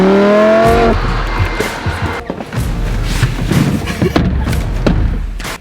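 A Lamborghini drives past with a rising engine whine in the first second, then a loud, rough roar with tire noise and a few thumps that stay strong to the end.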